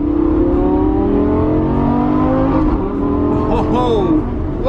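A Lamborghini 5.2-liter V10 revs and accelerates hard, its harmonics rising steadily through a fast gear change, close and loud, with a voice speaking over the engine.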